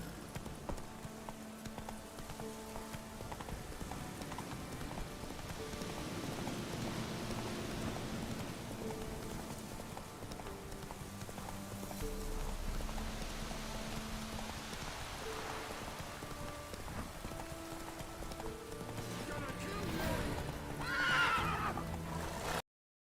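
A horse in The Witcher 3: Wild Hunt whinnies loudly near the end over steady rain, with soft hoof clip-clop and a musical score running throughout.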